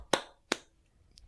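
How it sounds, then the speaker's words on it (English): A single person claps twice, sharp and close, about half a second apart, followed by a faint tap in a quiet room. "The sound of one guy clapping"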